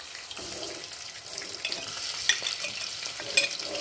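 Curry leaves and onions hiss and crackle in hot oil in a pan, with a steady close sizzle, brief sharp spits and a spoon stirring, no voices.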